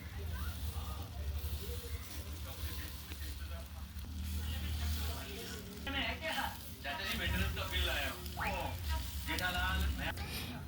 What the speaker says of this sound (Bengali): আর তাওয়াটা কিন্তু ভালো করে গরম করে নিতে হবে এই যে এক হাতা দিয়ে দিলাম